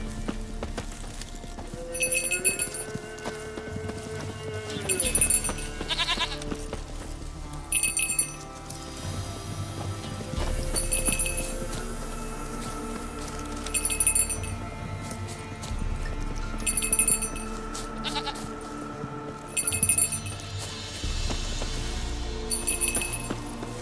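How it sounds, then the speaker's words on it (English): A hand bell rings to lead a goat in The Witcher 3 video game, with bright rings repeating at regular intervals over soft hoof clopping and quiet background ambience. "Do I really have to keep ringing this bell for you to follow?"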